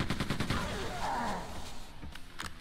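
Gunfire in the video game Quake II: The Reckoning, a rapid burst of repeated shots followed by a couple of sharper single blasts, loud and close, with a player voice briefly underneath.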